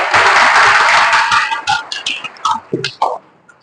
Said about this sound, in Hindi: तो बजा लो ताली एक बार।